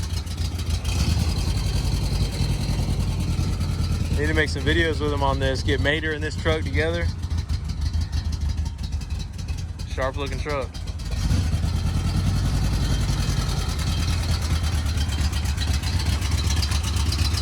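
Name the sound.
1977 Ford F-150 4x4 engine idling and revving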